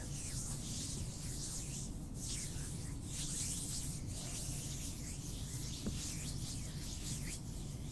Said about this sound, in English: Trying to figure out if my hands rubbing together makes enough sound.